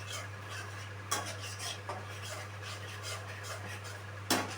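Spice masala and tomato puree stirred and sautéed in a pan, with a utensil scraping and rubbing against the metal, a few sharper knocks, over a constant low kitchen hum.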